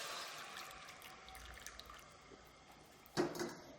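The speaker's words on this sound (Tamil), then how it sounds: "இப்போ நான் ஒரு குக்கரில் அந்த பாகை ஊற்றிக்கிறேன்" Strained sweet syrup for lentil payasam being poured into a pressure cooker, a faint steady liquid trickle with a brief louder splash near the end.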